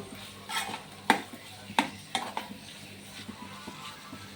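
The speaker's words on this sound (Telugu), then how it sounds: "ఈ అల్లం వెల్లుల్లి ముద్దను వేసుకుంటున్నాను. దీన్ని బాగా కలుపుకుందాం." Ginger garlic paste being stirred in a pan on the stove, with several distinct scraping and clinking strokes at an uneven rhythm and a faint sizzle underneath, close and fairly quiet.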